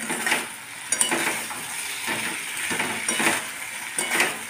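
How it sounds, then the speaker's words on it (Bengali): Pointed gourds go into a hot pan and sizzle steadily while a utensil stirs them. Scrapes and clinks against the pan come every second or so, close and moderately quiet, and no one speaks. "এবার পটলগুলোকে দিয়ে দিচ্ছি।"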